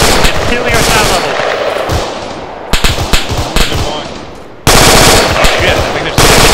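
Loud automatic gunfire from the military game Arma 3 rattles in rapid bursts, broken by short pauses, with the shots sounding close.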